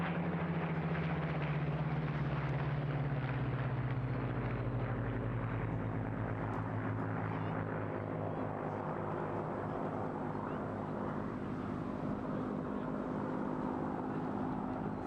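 A WWII warbird aircraft flying at the Eastbourne airshow, a steady loud droning engine with a slowly falling pitch as it passes, sustained without pause.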